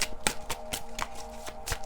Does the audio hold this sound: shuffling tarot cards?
yes